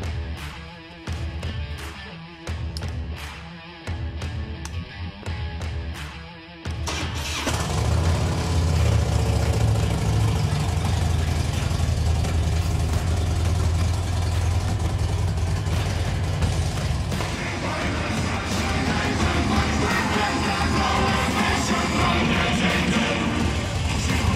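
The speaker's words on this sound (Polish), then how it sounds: "To właśnie ten dźwięk silnika, który słyszycie" Rhythmic clicking gives way to a 2006 Harley-Davidson Electra Glide motorcycle engine idling with a loud, deep, steady rumble that continues without a break.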